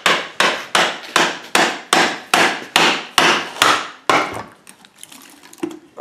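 Sharp, regular mallet blows strike a chisel into wood, about ten evenly spaced hits, then a few softer taps and scraping as the wood gives way.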